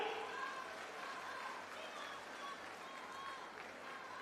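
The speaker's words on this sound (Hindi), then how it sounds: "मेरे भाई और बहनों, सहमत हो तो ताली बजाओ।" A crowd claps at a political rally in Shivpuri, a broad, continuous patter of many hands heard from some distance, steady and fairly soft throughout.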